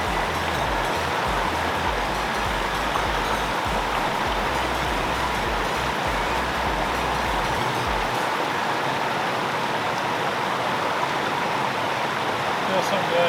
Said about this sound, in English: And the waterfall is right down there.